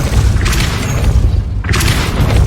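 A Depulso force spell in Hogwarts Legacy gameplay lands as a loud booming blast, two heavy bursts of rumbling impact noise back to back.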